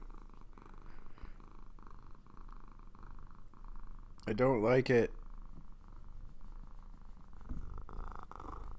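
A domestic cat purrs steadily and close by throughout, a low continuous rumble with a person talking over it at times.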